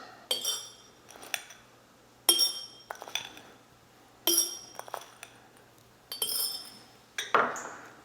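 Dried spices such as black pepper are spooned a teaspoon at a time into glass jars for pickling, giving about six separate bright clinks and rattles spaced roughly a second apart, close and clear with no voices.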